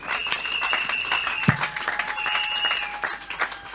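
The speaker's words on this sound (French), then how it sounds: "Est-ce qu'on peut acclamer pour la parole de Dieu?" Church congregation applauding during a French-language sermon, a dense patter of claps with some tonal voices or music threads running above, moderately loud and steady, with a brief low thump midway.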